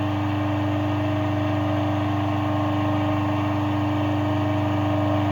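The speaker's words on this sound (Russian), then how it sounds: "Все в порядке, мотор работает." A 380V three-phase electric motor wired to run on 220V through a capacitor hums steadily with a constant tonal drone and smooth whir, close and unchanging, with no voices.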